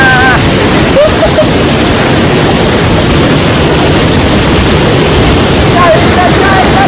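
Waterfall at Durbin Tilla Punji on Lumding Road in Assam, a steady loud broadband roar of falling water filling the whole stretch, with brief voices rising over it near the start and end.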